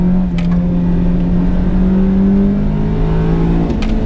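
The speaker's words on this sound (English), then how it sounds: "So it really needs to be revved" A 1991 Nissan Silvia engine drones loudly and steadily while held at revs in first gear, heard from inside the car with a strong low hum. The pitch shifts slightly upward and then settles.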